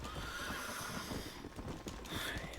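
Horse in the game Red Dead Redemption: Undead Nightmare whinnies over steady clip-clop hoofbeats, a loud neigh rising near the end amid continuous game ambience.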